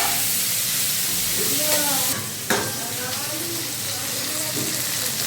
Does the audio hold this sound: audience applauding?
no